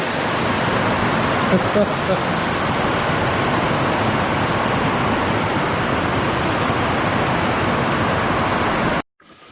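Heavy rain pours down steadily outside a garage, a dense, loud, continuous hiss that holds for about nine seconds before cutting off abruptly near the end.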